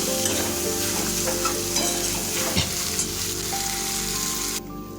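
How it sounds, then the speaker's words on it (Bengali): Boiled taro stolons (kochu loti) sautéing with garlic in a pan, a steady close sizzle and crackle with scraping stirs running throughout, the frying dropping off sharply near the end. "এখন এটাকে আরও মিনিট 5 ধরে লসুনে কষাতে থাকবো।"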